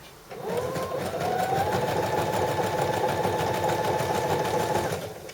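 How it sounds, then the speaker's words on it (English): A sewing machine runs steadily for several seconds, back stitching through a knit sweater, its motor whirring loud and close with a fast even needle rhythm and no talking. "Just a few back stitches to secure."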